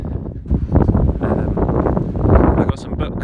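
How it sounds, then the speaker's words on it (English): Strong wind buffets the microphone in a loud, rumbling roar that gusts unevenly throughout, with a muffled voice partly buried underneath. "It's really windy today."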